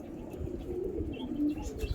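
A Shahjahanpuri pigeon coos softly and low, a close, murmuring coo over a dull background hum with no voices.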